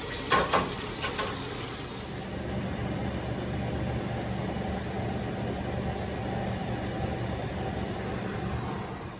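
Pork chops pan-frying in oil, a steady, moderate sizzle that carries on evenly after a few sharp knocks and clatters at the start.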